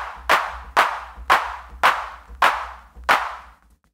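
Six sampled hand claps from an Ableton Live MIDI drum instrument, each hit slightly randomized to sound like a room of people clapping, struck at a steady, evenly spaced rhythm and ringing out crisply with no voices.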